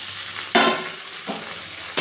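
Ridge gourd and okra frying in a pan with boiled potatoes, a steady close sizzle broken by three sharp bursts as a spatula stirs and scrapes the vegetables, no voices.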